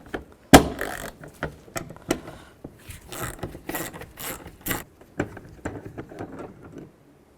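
A ratchet with a 10mm socket removes the side mirror bolts on a 2007-13 Chevy Silverado, giving quick bursts of clicking and metallic rattles with short pauses, close and moderately loud in a quiet space.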